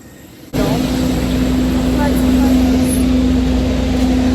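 Steady loud cabin drone of an airliner just after landing on a flight from London to Scotland, a constant engine and ventilation hum starting abruptly and continuing throughout.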